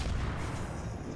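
Warship guns in the naval combat game World of Warships fire with a heavy, rumbling boom that fills the short moment, loud and continuous.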